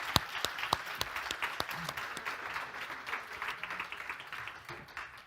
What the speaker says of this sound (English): Give them a round of applause as they take the stage